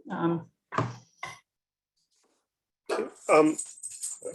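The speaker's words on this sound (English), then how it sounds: "Sorry, my dogs just went crazy for a second." Dogs bark in a home during an online city Urban Forestry Commission meeting: three sharp close barks, a quiet gap, then a louder flurry of barking mixed with voices.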